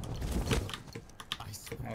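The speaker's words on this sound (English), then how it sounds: "let's get you off the keyboard cat" Keys clatter irregularly as a cat walks across a computer keyboard, soft uneven presses over a steady room and game background, with a voice talking in the clip.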